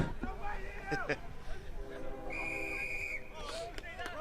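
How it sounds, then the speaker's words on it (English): A referee's whistle blows during a college rugby match, a long steady blast near the middle followed by shorter toots, heard over crowd noise and a commentator talking. "A whistle called here, another penalty."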